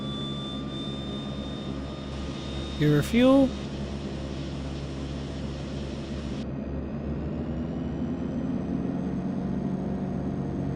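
The right turboprop engine of a DHC-6-300 Twin Otter spools up in a flight simulator game, a rising whine and steady hum building under brief spoken cockpit talk.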